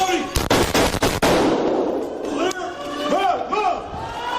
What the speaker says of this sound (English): officers Rex Engelbert and Michael Colazzo zeroing in, opening fire, killing the shooter.